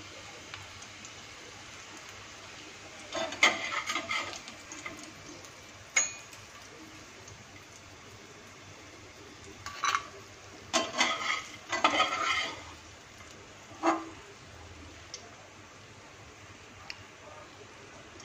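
Dry fruits fry in ghee with a soft, steady sizzle while a spoon scrapes and stirs them in scattered clattery bursts, several close together, then quieter stretches between.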